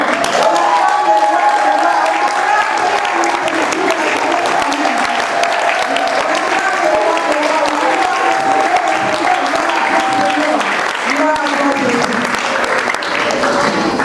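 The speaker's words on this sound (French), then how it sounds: "Est-ce qu'on peut s'élever et acclamer le Seigneur?" A church congregation at a youth gathering on engagement claps and acclaims the Lord, sustained dense applause filling the room with cheering voices mixed in throughout.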